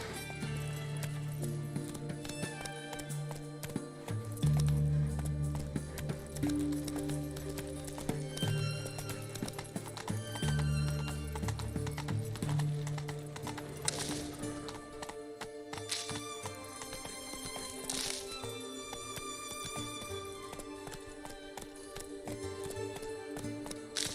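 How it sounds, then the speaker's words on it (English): In The Witcher 3, a horse gallops with rapid, steady clip-clop hoofbeats and an occasional neigh, mixed under in-game music and ambience. "Run, Roach."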